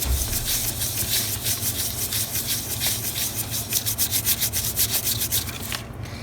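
Steady rubbing strokes as a glued paper hat is pressed down onto a paper craft figure, a fast, regular scratchy swishing that stays close and fairly loud throughout, with no talking.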